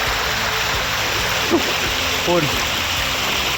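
Flash floodwater rushing across flooded rice fields during ongoing rain, a steady broad roar of flowing water with brief splashes, while someone talks over it.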